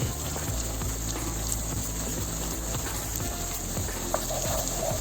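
Garlic added to softened onions sizzles steadily in a hot pan, a constant crackling hiss with occasional soft clinks close by.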